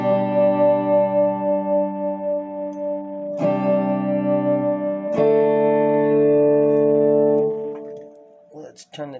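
Clean electric guitar tone through a Cube Baby amp, sustained chords ringing out with two fresh strums partway through and a few quick picked notes at the end, loud and alone.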